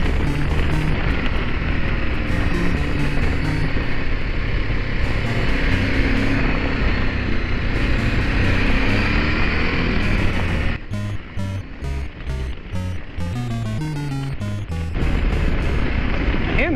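A Ducati Desert X motorcycle on a demo ride, heard as a loud, continuous engine drone heavily buffeted by roaring wind rush, with rev changes and a brief easing of throttle partway through.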